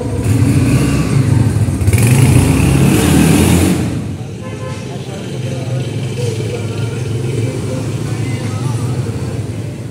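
A Honda CG 150 motorcycle engine runs close by, loud and steady with a rougher burst of revving early on before settling into a lower cruising drone.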